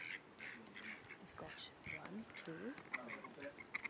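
A flock of ducks on the seaside at Hunstanton quacks repeatedly in short bursts, close by, while someone speaks briefly over them.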